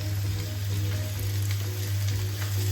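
Cashews and magaz seeds fry in a pan for malai kofta, giving a steady, close, dense sizzle that runs unbroken with no voices.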